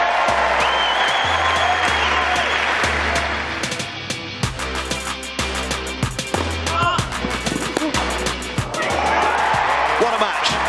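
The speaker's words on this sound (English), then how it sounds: "Standing ovation on court two" A standing ovation from the Wimbledon crowd on Court Two after a hard-fought tennis match, loud sustained applause and cheering with a commentator's voice and other talk running over it throughout.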